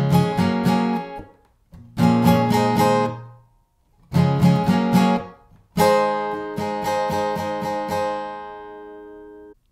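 Strummed guitar chords from the pre-chorus of a song, short choppy rhythmic bursts separated by brief silences, then a longer ringing strum, close and loud with no talking.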